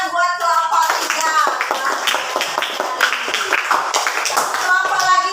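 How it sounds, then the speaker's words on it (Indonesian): Schoolchildren in an elementary classroom clap for a presenting group, loud rhythmic unison clapping close by with excited young voices chattering over it throughout. "Tepuk tangan buat kelompok 3."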